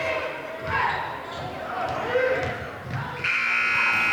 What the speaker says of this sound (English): And the buzzer sounds before the shot can be fired.